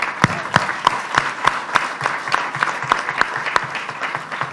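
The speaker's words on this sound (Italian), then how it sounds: "Io invito i partecipanti a continuare l'applauso" An audience at a civic congress applauds in a steady stream of claps, some individual hands standing out in a regular rhythm, moderately loud with no talk.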